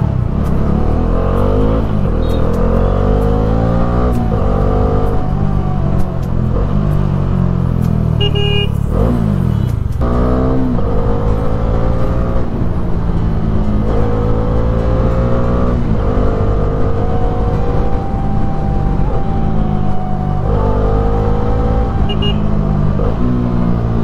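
Bajaj Dominar 400 BS6 motorcycle exhaust revving loudly and continuously, with repeated rising and falling engine pitch, close and dominant throughout.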